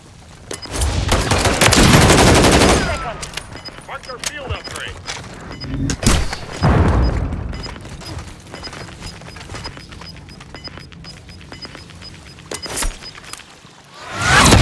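Remote turret machine gun fire in Call of Duty MWIII multiplayer, loud sustained bursts of rapid gunfire rattling close by, with booming impacts and heavy shooting running throughout.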